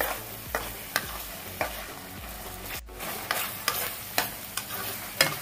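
Chettinad chicken curry masala fries over a medium flame in a pan, a soft steady sizzle punctuated by regular scraping strokes of a spoon stirring, close and without talk.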